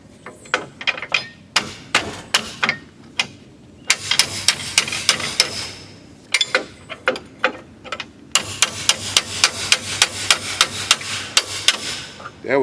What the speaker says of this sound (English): I don't suggest you use a hammer and a wrench that way, but it worked for me